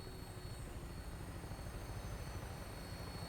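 A Vertibird helicopter in Fallout 4 lifts off with a steady, loud rotor and engine drone that holds evenly throughout, with no voices over it.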